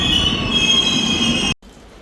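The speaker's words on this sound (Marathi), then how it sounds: "तर मित्रांनो, ट्रेन असं निघून गेली आता." A train pulling away from a station, a loud steady rolling rumble topped by a sharp high wheel squeal, cutting off abruptly near the end to quiet background.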